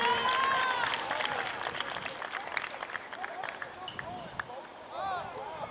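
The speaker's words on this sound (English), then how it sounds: "Big round of applause for Taya Castro" Crowd applause for a Prescott Lady Badgers soccer player on senior night, a continuous spread of clapping from a moderately distant audience while voices carry over it.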